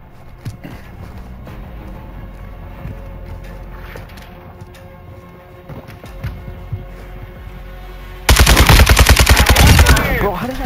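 Loud automatic gunfire from a team deathmatch video game match on the Frosty map, a dense rapid burst near the end after a stretch of quieter game sounds.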